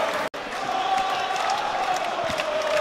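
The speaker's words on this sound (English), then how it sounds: "this crowd is going nuts" A basketball crowd at a Skyline Conference quarterfinal between the Yeshiva Macs and the Mount Saint Vincent Dolphins cheers loudly in a steady roar. The noise breaks off for a moment near the start, then carries on.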